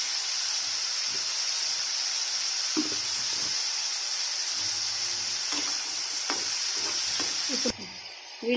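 Capsicum and egg fry sizzling steadily in a pan over medium flame, a constant close hiss with occasional stirring scrapes and clinks, no talking.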